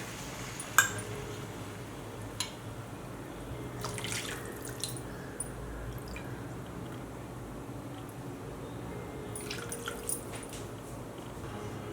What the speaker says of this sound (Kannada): ಇದಕ್ಕೀಗ ನೀರು ಸೇರಿಸ್ಕೊಳ್ಳೋಣ